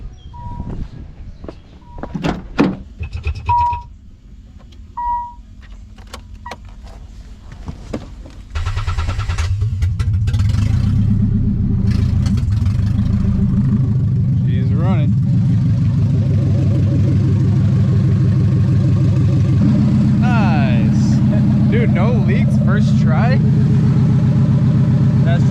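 A Nissan 300ZX with a swapped-in KA24DE engine cranks and fires up. Clicks and clunks come first, then a steady, loud idle that holds to the end while people talk nearby.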